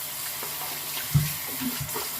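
Tap water running into a sink while hands are rinsed during a shave, as a steady close hiss with one brief louder splash partway through and no talking.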